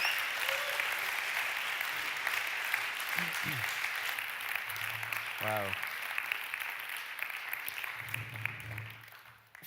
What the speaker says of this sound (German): Gebt ihr doch einen herzlichen Applaus.